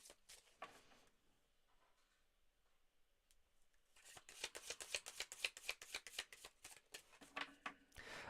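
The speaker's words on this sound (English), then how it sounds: "Let me shuffle and let's have a look." Tarot cards being shuffled close up, a quiet start followed by a dense run of rapid, crisp riffling flaps that grows louder toward the end, with no talking.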